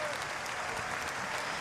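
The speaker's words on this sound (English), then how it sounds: "Round of applause from the crowd there as he gets to his feet." Speedway crowd at a Grand Prix round in Lodz, Poland, applauds as a fallen rider gets back to his feet, a soft, distant patter of clapping spread across the stands.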